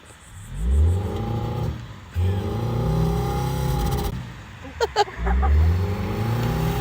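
A 2003 Nissan Altima's engine idles with a low, steady rumble as the car is shifted into park, rising in brief surges, close by, with a few clicks and knocks near the end.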